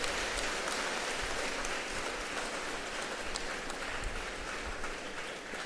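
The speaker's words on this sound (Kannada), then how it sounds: "ಎಲ್ಲ ಮಹನೀಯರು ಚಪ್ಪಾಳೆಯೊಂದಿಗೆ ಮಕ್ಕಳನ್ನು ಪ್ರೋತ್ಸಾಹಿಸಬೇಕು" At a school event honouring visiting dignitaries, the audience applauds prize-winning students with steady, dense clapping that sounds fairly distant and holds evenly for several seconds.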